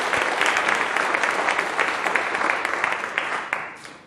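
Audience applause fills the room, a thick steady wash of many hands clapping close and fairly loud, gradually thinning and fading out toward the end.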